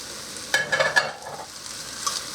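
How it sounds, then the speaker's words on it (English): Chunks of ham and carrots being stirred into a thick split pea soup in a pot, a few soft scraping and sloshing strokes near the start, then a quiet low simmer. "Mix that all up in there."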